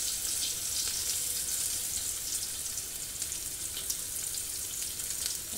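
Shallots stir-fry in hot oil, giving a steady, fairly quiet sizzling hiss with light crackles throughout and no voices.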